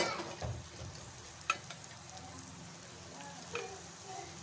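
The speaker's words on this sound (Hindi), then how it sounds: "इसको मैं अच्छी तरह से सॉस पैन में फ्राई कर लूँगी।" A soft, steady sizzle of finely chopped garlic frying in ghee in a saucepan, with a few light clinks and taps against the metal.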